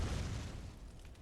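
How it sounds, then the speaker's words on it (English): A heavy low boom from a cannon launching a big metal ball in the video game Bloodborne, one deep blast that rumbles and slowly fades over about a second, fairly quiet and with no voices. "I'm pretty sure there's just a big metal ball launched from a cannon"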